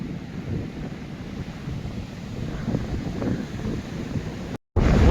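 Stormy sea at Vityazevo with gale-force wind: loud continuous roar of surf and heavy wind buffeting the microphone, steady and close throughout, with a brief dropout near the end.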